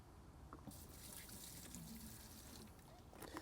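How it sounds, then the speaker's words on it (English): Varsol solvent is poured carefully into a container for cleaning oil paint from a brush, giving a soft, faint trickling liquid sound that runs fairly steadily and ends with a small splash. "I'm going to want to take some Varsol, carefully pour it into this container."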